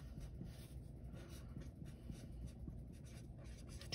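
Handwritten notes are made on paper with a pen or pencil, giving a faint, continuous scratchy rustle close by against low background noise.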